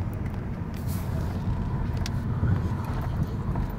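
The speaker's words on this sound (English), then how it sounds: "Over the speed bump and accelerating again just to get some speed back." Inside a Golf GTI driving over a speed bump and then accelerating, a steady low engine and road rumble runs throughout with slight swells, and no clear jolt stands out.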